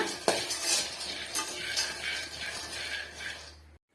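Peanuts roasting in a pan over a medium flame while being stirred, giving a dry rattling scrape with clinks and a soft sizzle, close by, ending abruptly.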